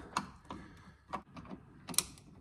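A screwdriver works screws out of a Hasbro Pulse Ghostbusters proton pack, giving a few faint, sharp clicks and ticks at irregular intervals, close and quiet with no voices.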